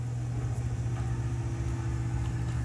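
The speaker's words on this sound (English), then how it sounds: "it's got a blower motor on there that blows the warm air out" A natural gas home heater's blower motor runs steadily indoors, a constant low hum and whir with a strong low-frequency drone, close and unbroken throughout.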